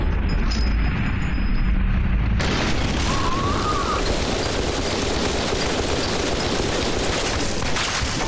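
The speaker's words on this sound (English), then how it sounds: "Oh, he was shooting at me." Enemy gunfire in the video game F.E.A.R. 2: a dense, roaring wash of shots and blasts that jumps to full loudness after a couple of seconds and keeps up unbroken to the end.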